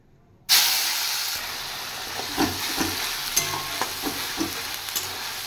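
Garlic and onion paste dropped into hot oil left over from frying potatoes: a sudden loud hiss bursts in after a brief silence, then settles into a steady close sizzle with small pops and stirring scrapes.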